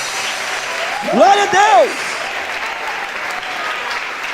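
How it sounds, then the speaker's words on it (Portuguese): Church congregation at an anniversary service applauding steadily, with a voice speaking over the clapping in the middle. "Você pode aplaudir mais forte a Jesus essa noite."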